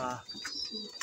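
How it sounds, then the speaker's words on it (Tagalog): A pigeon coos close by in a brief, soft burst of low throaty tones, with a faint high whistle and a little background noise. "Ito guys, ang ating ibon."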